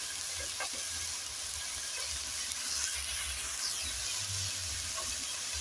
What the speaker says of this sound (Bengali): দিয়ে আবারও আমি একটু নেড়ে নেব।